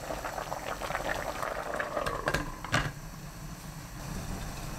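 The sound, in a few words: seaweed soup with perilla seed powder boiling on high heat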